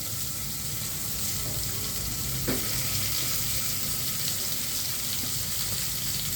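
Garlic cloves frying in a pan, giving a steady, dense sizzle that runs unbroken throughout, with a single brief clink partway through and no voices.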